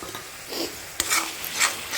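Spices with a little water being stirred in a cooking pan, a few scraping, rasping strokes of a spoon with one sharp knock midway, close and fairly quiet.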